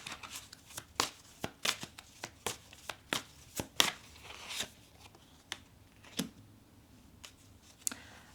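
Tarot cards are shuffled and drawn by hand, giving a run of crisp, close slaps and riffles at an irregular pace that thins out toward the end, with no talking.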